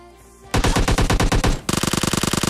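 Rapid bursts of Uzi submachine gun fire in the mobile game PUBG Lite, first a fast rattling volley of about a dozen shots, then a brief pause and a second denser, slightly quieter burst, loud and close with no talking.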